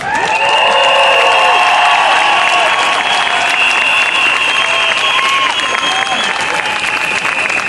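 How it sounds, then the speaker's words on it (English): Loud applause and cheering from a large crowd at a gay community gathering, continuous dense clapping with shouts and whoops on top throughout. "I'd like you to give a special round of applause to our signer here today"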